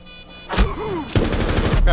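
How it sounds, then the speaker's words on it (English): Bursts of automatic gunfire ring out in a Rainbow Six Siege match at the Kafe Dostoyevsky map, a short volley followed by a longer, louder rapid string of shots close by. "Crap, they're shooting me at the bar."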